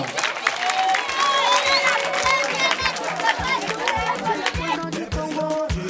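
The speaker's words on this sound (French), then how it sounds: "Merci, on acclame pour Faustina." A school ceremony audience cheers and claps for a child named Faustina, a loose, lively patter of applause with scattered shouts running throughout, fairly close and filling the room.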